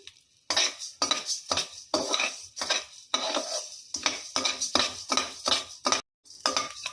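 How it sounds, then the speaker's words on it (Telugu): Coriander seeds tossed in a spoonful of hot oil in a pan, heard as a run of bursts of rattling, scraping stir and clinking against the pan with short pauses between them, close and fairly loud, with no voices. "ఆయిల్ కాగిన తర్వాత ధనియాలు వేసి వేయించుకుందామండి"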